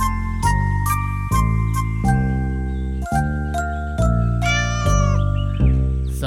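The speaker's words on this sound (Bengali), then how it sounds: "তারপর সে একটা বিড়াল নিয়ে এলো।" Cartoon cat meowing repeatedly in a children's animation, loud, clear cries over tinkling, jingling music, with no talking.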